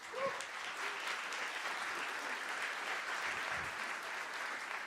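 An audience at a summit keynote applauds in a steady, even wash of clapping that holds for the whole stretch, moderately distant and fairly soft, with no voices over it.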